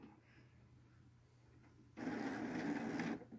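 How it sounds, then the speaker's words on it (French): A Canon Pixma 2540S printer powers on, giving a steady mechanical whirring that starts abruptly and runs for about a second before cutting off, after quiet room tone. "et allumer l'imprimante."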